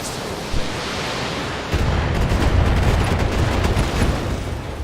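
Mech weapons fire on a short-range missile carrier in BattleTech, heard as a dense, noisy roar that thickens into rumbling crackle and volley impacts partway through, steady and loud with no voices over it.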